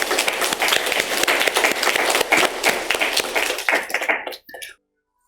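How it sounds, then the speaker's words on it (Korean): A church congregation at a Sunday service claps together in a dense, loud burst of applause with individual sharp claps standing out, sustained for several seconds before trailing off into silence. "앞으로 더 신앙생활 잘 하실 수 있도록 우리 박수로 격려하겠습니다"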